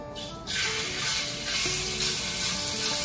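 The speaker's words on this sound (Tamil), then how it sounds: "நான் வந்து இந்த எடுத்துருக்க மேரினேட் பண்ண சிக்கனை வந்து கொஞ்சம் ஸ்ட்ரெட் பண்ணி நான் போட போறேன்" Marinated chicken frying in hot oil: a loud, steady sizzling hiss that rises as the pieces go in and then holds continuously.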